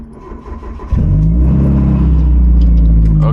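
A car with newly installed motor mounts cranks and fires up, the engine catching abruptly after a short quiet moment and settling into a loud, steady close-up rumble with a slight rev.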